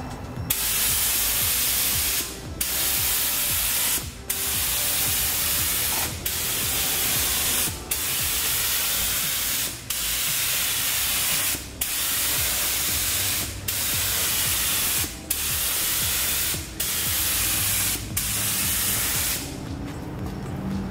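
Spray gun laying a third coat of paint onto a repaired cracked car bumper: steady, loud hissing bursts of several seconds each, broken by short pauses at regular intervals, close up.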